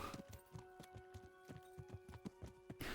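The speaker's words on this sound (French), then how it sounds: "Je sais pas si son cheval il va vite, vite, vite, vite, vite, ou alors si c'est juste un cheval qui se la pète." Rapid clip-clop of a horse's hooves galloping in a video game, a steady run of sharp hoofbeats over a faint constant hum, with no talk.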